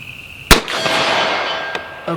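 A Canik TP9SF pistol fires a single sharp, loud shot at a steel target, followed by a brief ringing tail and a fainter impact-like snap about a second later.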